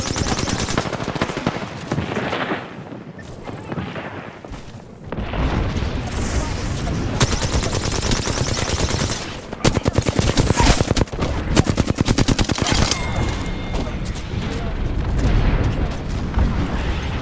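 Rapid bursts of automatic gunfire and heavy shots from the video game Apex Legends, loud and close, with dense volleys dominating the second half under the steady game ambience.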